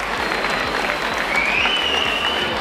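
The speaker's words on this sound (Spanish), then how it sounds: "fuerte el aplauso para este podium" Outdoor applause for a podium ceremony at a dirt rally in Pozoblanco, a steady wash of clapping from a crowd with a faint whistle-like tone rising midway.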